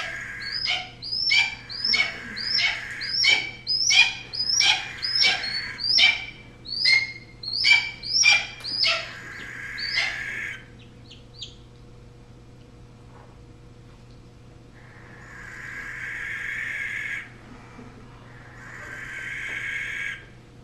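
Birds of prey at a raptor center, including a red-tailed hawk, give a run of about ten loud, rhythmic screeching calls, then pause before two longer harsh calls over a steady low background hum.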